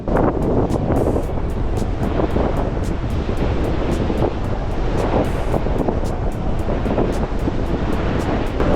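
Steady, loud wind buffets the microphone on the open promenade deck of the Celebrity Summit cruise ship, with ocean waves washing beneath in a constant roar and no one speaking.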